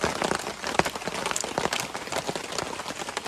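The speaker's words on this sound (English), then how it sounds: "the rain got a bit too heavy to stay in the back of the 4Runner with the hatch open" Heavy rain pelts a tarp sheltering a campsite next to a 4Runner, a dense, steady patter of close, loud drops with sharper individual taps mixed in throughout.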